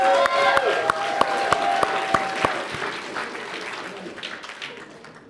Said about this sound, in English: One more round of applause for Jasmine.